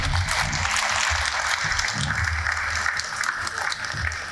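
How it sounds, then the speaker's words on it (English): Applause for a finalist team taking the stage at the Environment Youth Startup Summit 2022, dense clapping mixed with low hall rumble and some murmuring, steady and fairly loud throughout. "A big round of applause, please."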